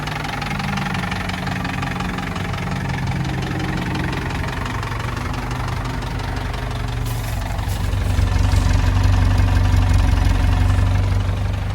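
A 1948 Willys Jeep CJ-2A engine idles steadily with a rough, tractor-like chug and low thrumming knock, growing a bit louder and deeper toward the end.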